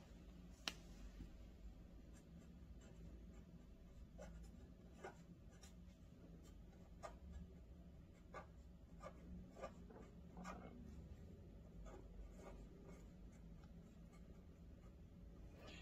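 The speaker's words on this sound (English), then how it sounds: "With the black pen, you can fill out this box, surname, given name," A black pen scratches quietly across an exam answer sheet, making faint, irregular strokes and taps as boxes are filled in, with no voices.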